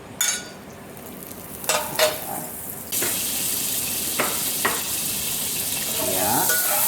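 Butter melting in a pan, heard as a few scattered clinks and taps at first, then a steady sizzle that swells in and continues close and even, broken by occasional short knocks, with no voices over it.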